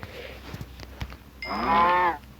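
A few soft thuds and clicks in the Minecraft-style game Craft World, then a single drawn-out synthetic cow moo, fairly loud and clear, lasting under a second.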